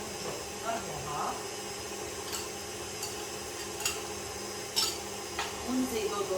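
Brioche dough being mixed and beaten in a bowl, with intermittent clinks and scrapes of a utensil against the bowl over a low kitchen hum.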